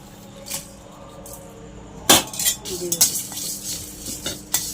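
Dry red chillies, coriander and cumin being dry-roasted in a kadai for a fuchka spice mix, heard as a metal spatula scraping and clinking against the pan in repeated strokes, with faint sizzle underneath.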